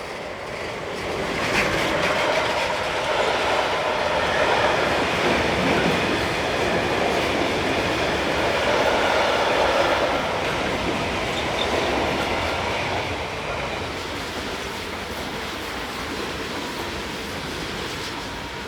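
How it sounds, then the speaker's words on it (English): A mixed freight train headed by locomotive 193356 rumbles past on a German main line, a steady loud roar of wagons and wheels lasting throughout and easing slightly toward the end. "last train to be seen in this programme has 193356 at the head of another mixed freight"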